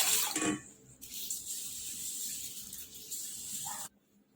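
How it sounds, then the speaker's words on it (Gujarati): Running water splashing as mung beans are rinsed, a steady close hiss of tap water that stops abruptly near the end. "ચાર પાંચ પાણી આપણે સારી રીતે ધોઈ લઈશું"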